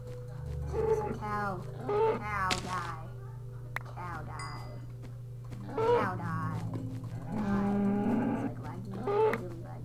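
Cow moos in a Minecraft game recur several times, nasal groaning calls mixed with someone talking over the game sounds.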